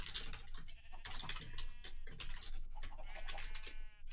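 Minecraft farm animals make repeated bleating calls that sound like sheep, mixed with chicken-like clucks, in a busy overlapping chorus of short cries with no talking.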